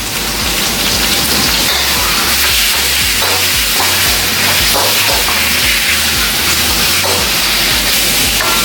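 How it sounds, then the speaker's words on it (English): Pork belly fries in a pan with pounded herbs, giving a loud, dense sizzle and crackle close by, much like heavy rain. A little stirring breaks through now and then. "you not only seal the pork belly, but you also want to cook through the herbs that you have pounded"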